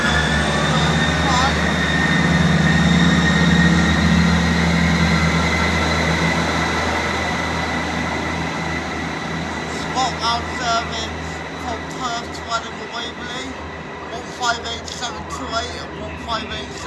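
A ScotRail train from Perth runs through Edinburgh Haymarket with a steady rumble and whine that gradually fades, while station announcements and platform sounds carry over it toward the end.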